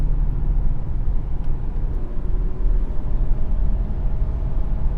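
A Mercedes W126 500 SE with a V8 engine drives through the evening, heard from inside as a steady low engine drone and road rumble, constant and fairly loud.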